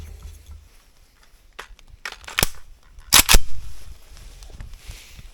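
An AK-74K rifle fitted with a Steel Immortal XL Air suppressor fires three sharp, muffled shots, the last two in quick succession, close by in an otherwise quiet space.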